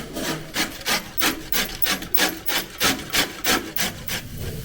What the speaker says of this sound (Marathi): दोन्ही काकडी किसून घेतो